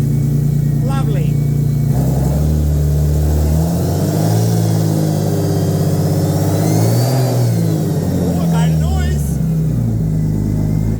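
Car engine fitted with a new Pulsar turbo, revving loudly up and down in repeated sweeps close by, a strong continuous drone with rising and falling pitch.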